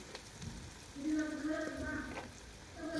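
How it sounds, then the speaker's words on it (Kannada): Onions frying in oil for Hubballi-Dharwad style girmit, a soft steady sizzle with faint crackles at low volume and no speech. "ಈ ಥರ ಫ್ರೈ ಮಾಡ್ಕೋಬೇಕು. ಟೊಮ್ಯಾಟೊ ಹಾಕೋಕ್ಕಿಂತ ಮೊದಲೇ ಈ ಥರ ಚೆನ್ನಾಗಿ ಎಣ್ಣೆಲಿ ಬೇಯಬೇಕು ಅವು ಈರುಳ್ಳಿ ಎಲ್ಲ"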